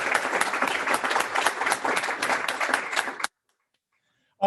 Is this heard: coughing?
no